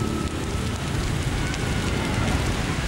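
Rain falls hard during a storm, a dense, steady hiss of drops on surfaces that stays loud and unbroken throughout with no voices.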